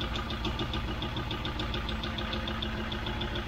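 A Rover V8 engine idles with hydraulic tappets ticking, a quick, even tapping heard close up over the low, steady hum of the engine.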